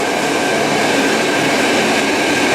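A train on the Andalsnes–Bjorli line in Norway rushes along the rails with a loud, steady roar and rumble, heard close from inside the carriage.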